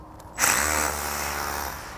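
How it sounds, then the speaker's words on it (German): A hammer drill switched to hammer mode bores into a paving stone, starting abruptly and holding a loud, steady buzzing rattle up close, with no voices. "Und jetzt nehme ich die Schlagbohrfunktion."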